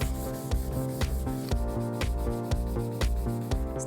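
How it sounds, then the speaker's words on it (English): Hand sanding with sandpaper to strip an orange-tinged veneer finish from a vintage wooden deck chair: loud, close, steady rhythmic back-and-forth rubbing strokes about twice a second, with no talk. "It's out with the sandpaper and the elbow grease."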